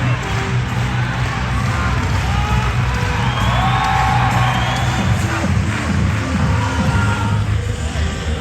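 A crowd at Ballerup velodrome during a Copenhagen track cycling three-day race cheers and applauds in a loud, continuous wash of noise, with whoops rising throughout.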